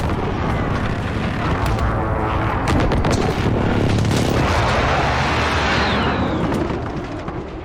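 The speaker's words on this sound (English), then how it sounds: "Enemy precision airstrike." Precision airstrike explosions in Call of Duty, a dense continuous roar of booming blasts and rumbling gunfire that stays loud for several seconds before easing slightly at the end.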